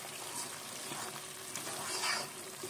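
Chicken korma frying in a pan as cream is stirred in, a steady close sizzle with soft scraping and spoon movement throughout, no voices.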